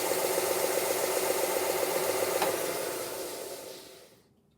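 A belt sander runs steadily with a broadband whirring hum and faint rattle, holding an even level before winding down and falling silent near the end.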